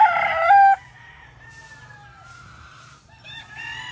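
A rooster crows loudly at first, then a long drawn-out crow trails off, followed by another crow starting; a low hum sits underneath.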